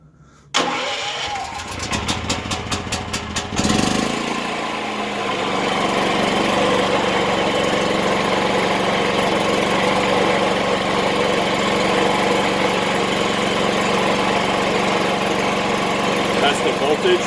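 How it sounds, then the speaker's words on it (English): A Predator Inverter 8750 7000-watt generator cranks with a quick series of pull-start strokes, catches after a few seconds, then settles into a loud, steady running drone up close. "when I do start the generator"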